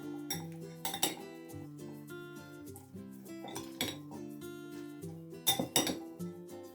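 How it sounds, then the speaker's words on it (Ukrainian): A salad is mixed and dressed in a bowl, with clinking utensils against the dish in a few separate bursts and faint background music. "Змішую все ретельненько і заправляю салат"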